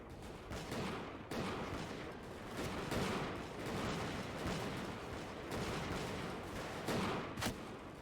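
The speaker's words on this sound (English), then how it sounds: "There's just smoke everywhere from muskets firing." Dense, continuous musket volleys and scattered gunshots crackle from a large early-1700s European battle in Bannerlord, layered shots overlapping into a loud, steady roar of gunfire with occasional sharper cracks.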